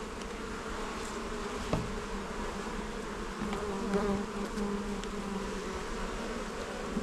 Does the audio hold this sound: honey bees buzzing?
yes